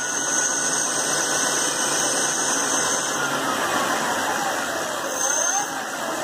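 Car alternator serving as the motor of a DIY e-bike, running flat out on laptop batteries with a cheap Chinese controller: a steady, loud whirring drone with a faint rising whine, close by and continuous throughout.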